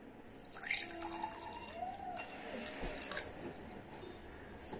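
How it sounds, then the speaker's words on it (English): Water is poured from a bottle into a glass nearby, a soft trickling fill with faint rising tones as the glass fills, quiet and intermittent. "now I will pour some water inside this one"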